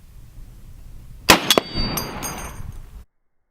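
Rifle bullets striking a stainless steel disc target outdoors: a sharp shot and metallic clang, then quick further impacts, with the plate ringing and buzzing as it fades out before sudden silence.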